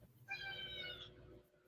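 A house cat meows once, a short, moderately clear call heard over a low background hum, with no talking during the meow.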